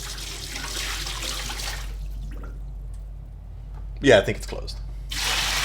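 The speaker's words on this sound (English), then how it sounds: "I'm gonna fill this with water" Water from a tap running into a bucket, used to mix a degreaser for cleaning engine parts. A steady rushing stream starts and stops around a brief stretch of close speech.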